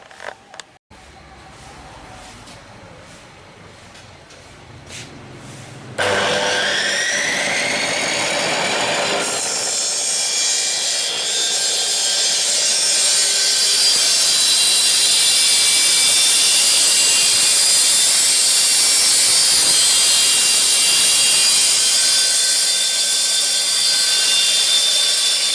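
A homemade bone-cutting machine slicing beef bones: a loud, continuous saw-like whine and grinding roar that starts after a few seconds of lower rumble, then holds steady and harsh to the end.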